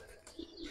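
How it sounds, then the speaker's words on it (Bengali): A wild-type pigeon coos twice in a low, soft murmur, two short throaty notes close by against a quiet background. "এটা একদম বন কবুতর ভাই"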